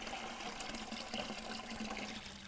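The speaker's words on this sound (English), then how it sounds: "And just pour off anything that floats." Water poured off floating tomato pulp and bad seeds in a container, a soft, continuous trickling splash heard close and fairly quiet for a couple of seconds.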